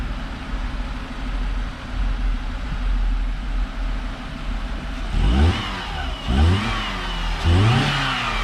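A 2001 Dodge Neon runs on a dyno, idling with a low steady hum before three sharp revs climb and fall near the end, loud and close.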